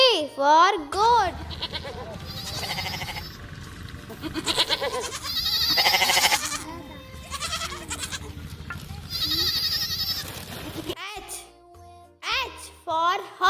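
A goat bleats in loud wavering cries near the start and again at the end, with a voice and busy background sound filling the middle.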